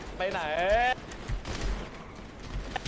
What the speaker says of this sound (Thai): ยิงยิง